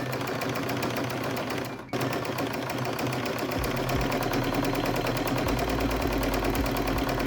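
A sewing machine stitches ribbon onto a tote bag strap in a fast, steady run of rapid needle clatter, close and continuous, with a brief pause near the two-second mark before the motor picks up again.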